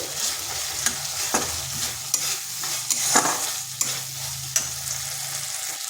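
Washed lentils being stirred and fried with spices in a pan: a continuous close sizzle punctuated by repeated spatula clicks and scrapes, some sharper than others, with no talking.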